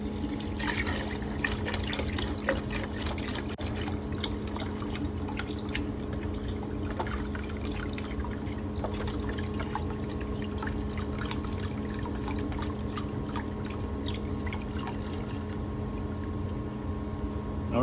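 Descaling solution circulates through a Noritz tankless water heater in a residential home, producing a steady trickle and irregular drips of liquid against a constant low hum.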